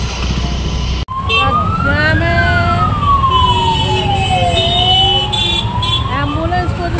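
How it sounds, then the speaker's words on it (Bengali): Ambulance siren wailing close by in stuck traffic, a loud sweeping tone rising and falling over steady engine and road noise. "অ্যাম্বুলেন্স পর্যন্ত আটকে গেছে।"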